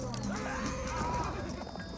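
Horsemen in the real-time strategy game Age of Empires 4 charging at villagers, hooves clattering and a horse whinnying, heard under a commentator's voice.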